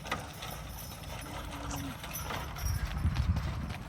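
Draft horse team being trained for city streets, with hooves clip-clopping on pavement and growing louder and more rhythmic toward the end, amid low outdoor rumble.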